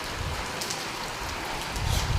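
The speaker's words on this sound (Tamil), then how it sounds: "விடாமல் மழை பெய்யுது." Heavy, continuous rain falls steadily and close by on a late-November day, a dense unbroken hiss that swells slightly toward the end, with no voices.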